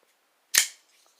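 A SOG Aegis AT assisted-open folding pocket knife snaps open with one sharp, loud click close by, followed by a faint rattle in near silence.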